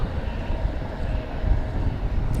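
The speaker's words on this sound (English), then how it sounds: "Here goes American Flight 1890." An American Airlines Airbus A321neo passes at DFW Airport, a steady low broadband jet rumble at moderate distance, continuous and fairly faint.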